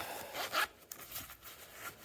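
A zipper slides open on a fabric pouch with a red zip, supplied as an accessory case for a DataLocker DL4 FE encrypted drive. Several quick, close rasping pulls sound in short bursts, the loudest near the start.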